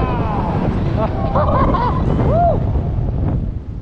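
Strong wind roars steadily against the microphone in a loud, constant rush at a theme park, with faint voices briefly audible beneath it.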